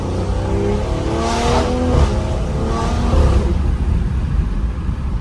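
A Stage 2 BMW M340i with a Dinan valved exhaust accelerates hard in second gear, a loud, deep, rising engine roar heard from inside, steady and continuous over several seconds with no talk.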